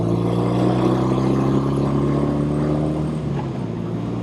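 A 1971 BMW R75/5 motorcycle engine hums steadily while riding, a smooth, even drone that eases slightly toward the end, with no talking.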